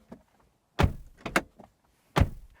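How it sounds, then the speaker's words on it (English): A 2026 BMW X3 with a four-cylinder engine shuts its doors in a few solid, close thuds, with short metallic latch clicks between them and near silence around each slam. "And this is what the door slam sounds like."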